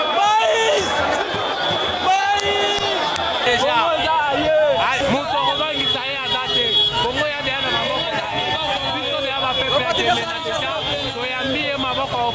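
A large crowd at a political rally in Bangui, a constant loud swell of voices, shouts and chanting layered together, dense and unbroken across the whole stretch.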